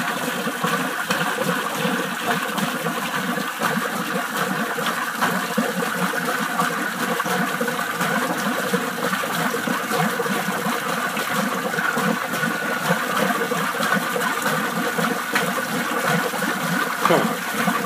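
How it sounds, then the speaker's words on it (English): Water sprays on a farm in a continuous hiss, an even, close rush of droplets and splashing that holds steady throughout without any break. "The spraying of the water looks totally different on camera."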